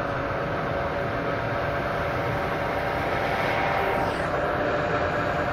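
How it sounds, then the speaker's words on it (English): A train rumbles past in Train Simulator on the Strasbourg–Karlsruhe line on a foggy autumn day, a steady broad roar that holds loud and even throughout. "Oh, here's a train."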